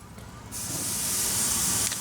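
A rump roast is seared over a fire, giving a sudden loud, steady hiss that starts partway in and holds close and bright before easing off near the end.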